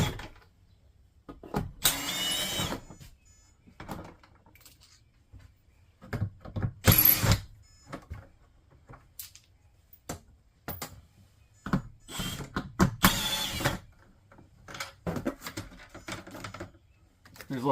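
A screwdriver or drill removes screws from the inner ceiling panel of an RV air conditioner, several separate bursts of whirring and clicking divided by quiet gaps, close and fairly loud.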